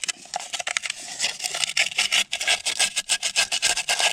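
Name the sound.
sandpaper rubbing over a motorcycle flywheel part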